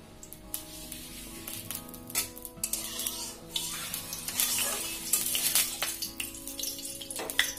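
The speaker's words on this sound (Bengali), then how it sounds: "এই দেখো মাছটা আমার প্রায় ভাজা হয়ে গেছে" Hilsa fish pieces lightly frying in hot oil, a steady sizzle with spattering bursts, broken by stirring and the clink of utensils against the pan.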